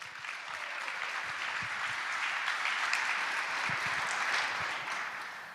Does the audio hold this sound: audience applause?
yes